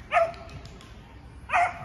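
A dog barks twice at a dog park in Irpin, Ukraine, two short sharp close barks about a second and a half apart, with quiet outdoor background between them.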